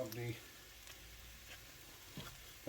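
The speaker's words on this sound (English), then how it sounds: "It's starting to sizzle." Wild St George's and shop-bought mushrooms hit melted butter in a pan, giving a faint, soft sizzle with a few stirring scrapes, while a voice briefly talks over the start.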